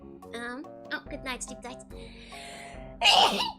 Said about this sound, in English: The sneezes are getting harder.